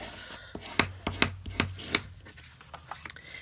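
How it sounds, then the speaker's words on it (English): A bone folder rubs along a folded cardstock card base, giving a series of short, sharp scraping strokes in an uneven rhythm, close and fairly quiet. "I'm just going to take my bone folder and burnish this so that it's a real crisp, nice fold"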